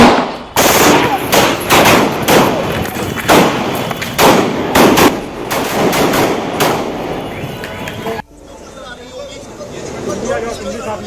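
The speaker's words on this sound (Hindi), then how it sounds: "हम लोग पे गोलियां चल गई" Rapid bursts of gunfire ring out in sharp, loud cracks, several volleys in quick succession over shouting voices and commotion, then cut off to a quieter background.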